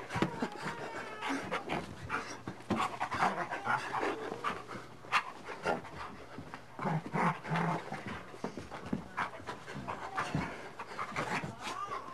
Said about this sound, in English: Dog's still chewing my leg.